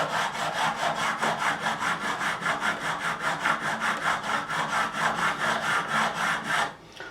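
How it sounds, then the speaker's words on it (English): A diamond file bevels the fret ends on a Fender Strat during a refret. It makes fast, regular back-and-forth rasping strokes, loud and close, that continue steadily for about seven seconds before stopping, with no talking. "nice diamond file. This is used for leveling frets, but again, I think it's a little bit coarse. So I'm going to just use this just for doing the bevel."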